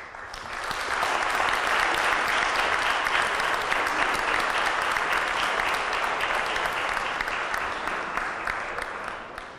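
Sustained audience applause fills a hall after a poetry reading at a literary tribute held on Book Day, dense steady clapping from many hands that swells quickly and holds loud for nearly ten seconds with no talking.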